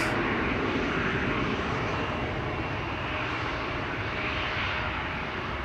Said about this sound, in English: Embraer 175 to Zurich